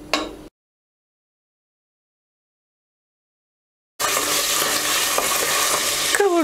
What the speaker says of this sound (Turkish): Bir 5 dakika etleri yağda kavuracağım.